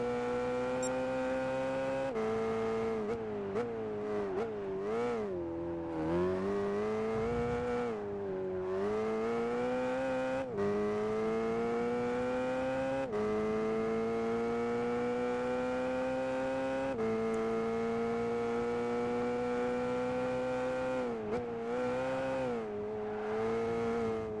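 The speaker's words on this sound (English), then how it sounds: "This car literally does sound like a vacuum cleaner in GT6." A whining car engine in Gran Turismo 5 during a front-engine, rear-drive challenge, thin and vacuum-like, rising and falling through gear changes and revs for a long stretch.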